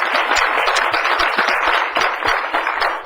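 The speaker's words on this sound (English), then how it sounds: "Can we give them all these folks a round of applause?" Applause at a county Board of Supervisors meeting honouring victim advocates, a moderate, continuous patter of many hands clapping in a hall, with no voices over it.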